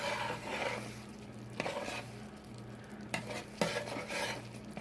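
A thickening Mexican-style coconut candy mixture bubbles over raised heat, with a soft continuous sizzle and spoon stirring strokes scraping the pot at close range.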